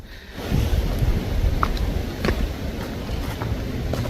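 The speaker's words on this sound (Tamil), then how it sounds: "நல்லா காற்றடிக்குது." Strong wind gusts across an open hillside on a mountain trek, buffeting the microphone with a steady low roar that rises suddenly after a quiet start and keeps blowing throughout.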